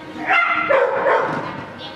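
Dogs give a quick run of yippy barks and whimpers close by, a couple of seconds of excited vocalizing.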